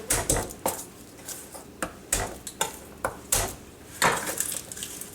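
Garlic cloves being smashed in a kitchen while making vegetarian minestrone, a series of sharp, close knocks and thuds on a hard surface at an uneven pace, about a dozen impacts with no talking.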